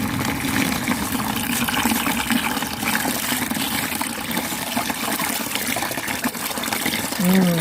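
Water poured through a rock tumbler barrel full of coins, a steady rushing, gushing flow with some rattling that runs throughout, fairly loud and close, with no voices.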